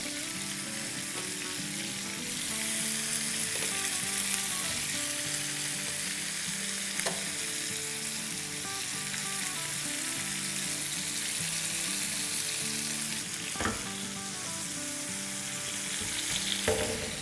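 Qureshi kebabs fry in a pan with butter, giving a steady close sizzle that runs throughout. Brief stirring scrapes and clinks break through now and then.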